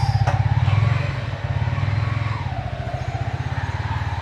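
A motorbike engine idling up close, a steady low pulsing putter with a faint mechanical rattle and no talk.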